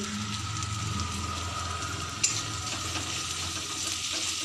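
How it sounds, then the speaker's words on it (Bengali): Chopped garlic and ginger fry in hot oil for potato chop filling, giving a steady close hiss and crackle throughout with one brief sharp pop midway. "ভালো করে এটা ভেজে নেব ভালো করেই ভাজবো"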